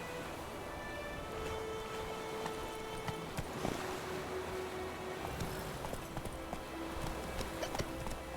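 Hooves of a horse galloping in The Witcher 3 video game, a steady rhythmic clip-clop under faint ambient background, fairly quiet.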